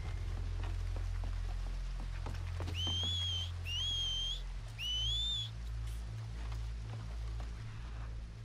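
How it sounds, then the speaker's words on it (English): In Red Dead Redemption 2, three rising whistles, each a second or so long, sound in quick succession over a steady low rumble and patter like rain on water. "Make a noise, whistle or something."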